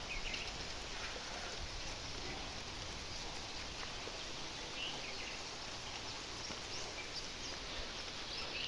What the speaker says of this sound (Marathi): या जोरात आला पाऊस